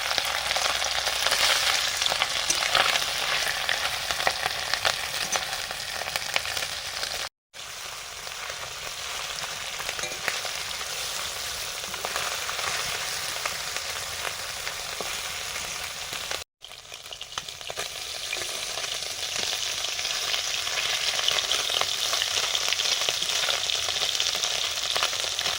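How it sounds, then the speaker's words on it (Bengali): Small mourola fish frying in mustard oil in a pan, a loud, steady crackling sizzle running continuously, briefly cut out twice, with no voices. "প্রথমে মৌরলা মাছগুলো ভেজে নিচ্ছি"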